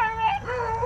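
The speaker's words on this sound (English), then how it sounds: "that little red one there, he's already barking at it" A beagle puppy gives short yips and whimpering barks, close by and mixed with harmonic whines, over a low background rumble.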